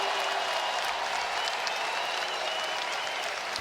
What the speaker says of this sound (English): how appreciative is this crowd here in Birmingham.